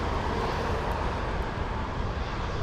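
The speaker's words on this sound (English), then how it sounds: "Let's go for the Alaska 737, taking off on runway 15." Alaska Airlines Boeing 737 taking off on runway 15 at Anchorage airport in gusty winds, a steady, broad jet engine roar heard from a distance without any break.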